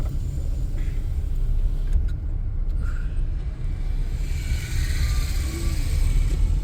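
A car passes on a mountain road, its engine and tyre rumble steady and fairly close beneath broad wind-like road noise, with no talking.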